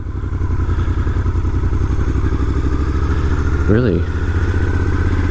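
A 2006 Triumph Scrambler 900 rolls slowly around a parking lot, its engine giving a loud, close, steady low throb with a brief rising rev near the end, under a few spoken words.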